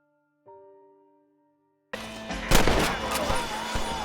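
Gunfire in the Western video game Red Dead Redemption: a short musical tone fades out, then after a pause a loud burst of rapid close shots erupts with echoing cracks and continuing fire.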